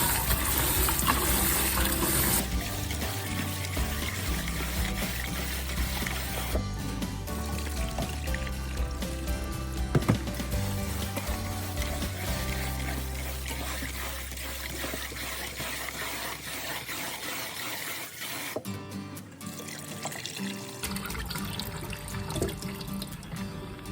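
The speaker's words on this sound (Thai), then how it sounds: "ล้างสักสองสามน้ำนะคะให้กุ้งสะอาดค่ะ" Tap water runs over shrimp as they are washed for soy-marinated shrimp, a continuous close splashing stream with shifts in flow and a few clatters along the way.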